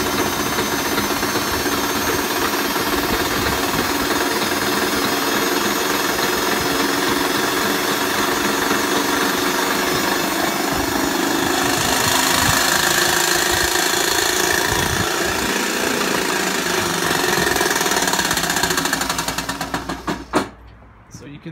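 Dyson CR01 Contrarotator washing machine running with its drums popping out of gear: a loud, constant mechanical whirring and rumbling drone that cuts off abruptly near the end.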